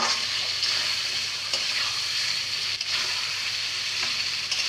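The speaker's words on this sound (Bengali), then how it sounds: "ভালোভাবে মশলা কষায় মাংসগুলো দিয়ে দিছি এখন সুন্দরভাবে নেড়ে দিব" Chicken pieces are stirred as they fry in a spiced masala for a bhuna. A dense, steady sizzle holds throughout, broken by a few soft scraping stirs.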